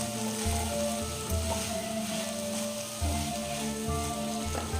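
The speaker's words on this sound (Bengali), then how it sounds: "এবার এটাকে ভালো করে একটু মিশিয়ে দেবো।" Leftover cooked rice being stirred and mixed in a frying pan for homemade chicken rice, giving a steady sizzle with repeated scraping strokes of a spatula, close and moderately loud, with no talking.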